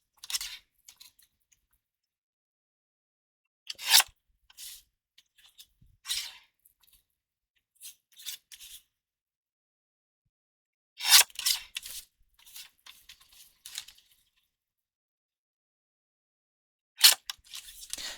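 Scissors trimming a paper Santa cutout for handmade Christmas cards, heard as a few separate bursts of crisp snipping and crunching spread out between quiet pauses, close and fairly soft.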